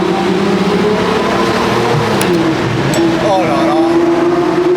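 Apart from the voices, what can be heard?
Lamborghini Murciélago LP-580 V12 engine at 4000 rpm in tunnel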